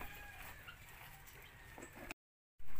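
Chickens cluck and murmur close by in a backyard coop with fresh eggs, a continuous busy layer of soft fowl calls, cut by a brief silent gap near the end.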